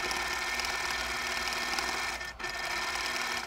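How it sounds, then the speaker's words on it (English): Sewing machine stitching the seams of a quilt block, a close, steady, fast mechanical whir with rapid needle chatter that briefly dips near the end before resuming. "Now I'm going to go ahead and stitch them."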